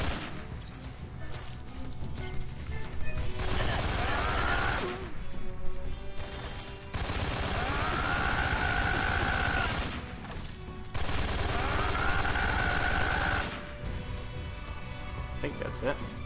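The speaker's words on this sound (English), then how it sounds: "Let's just shoot everybody." Bursts of automatic gunfire from Metal Gear Solid 3 rattle in several sustained volleys separated by short pauses, loud and close, with game sounds layered over them.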